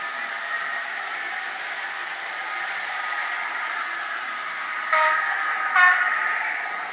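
Model locomotive fitted with an HM7000 sound decoder giving a steady hissing, rushing engine sound, with two brief higher tonal chirps near the end and no talking.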